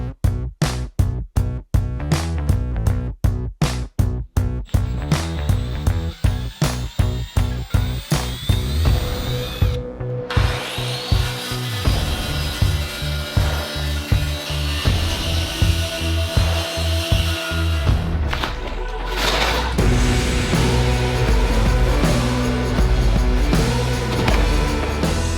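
A power tool cuts into an Airstream trailer's plywood or OSB subfloor, loud and close, starting in short repeated bursts, then running as a long continuous grinding cut.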